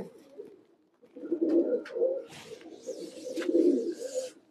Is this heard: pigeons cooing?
yes